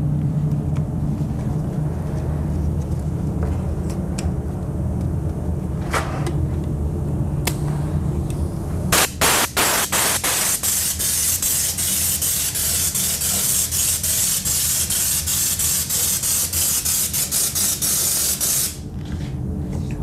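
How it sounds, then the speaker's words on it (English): Evercoat rubberized undercoating sprayed from an application gun screwed onto a quart can during a 1968 California Special Mustang restoration: faint clicks and short bursts, then a loud steady hiss sustained for about ten seconds before cutting off. "Application gun that just screws onto the quart can, and you just apply a nice heavy coat inside there."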